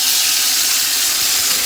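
Mole sauce hisses and sizzles as it hits hot vegetable oil in a pan, a steady, bright frying hiss with no voices.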